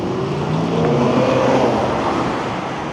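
A Porsche speeding along a downtown Toronto street, a loud, steady roar of engine and tyres sustained throughout, close by, with traffic noise around and no talk.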